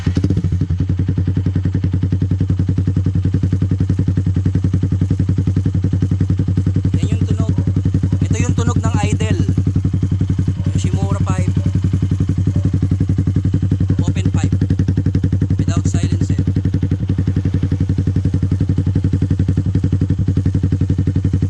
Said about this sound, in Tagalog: Yoshimura Alpha open pipe sa Sniper 150.